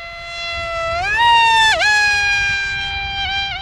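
The electric motor of a free-flight EPP foam RC jet whines at a high pitch. It climbs in tone as the throttle rises, then briefly dips and stutters before steadying into a loud, continuous drone.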